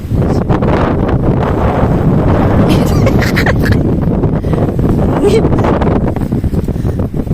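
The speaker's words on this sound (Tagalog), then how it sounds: "Sobrang hangin" Strong wind roars steadily into the microphone, a constant loud buffeting rush with faint rustling beneath it.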